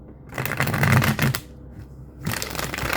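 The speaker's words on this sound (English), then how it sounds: "One more shuffle, y'all." Tarot cards shuffled by hand in a quick run of riffling, flapping bursts, close and fairly loud, with a short pause before the shuffling resumes.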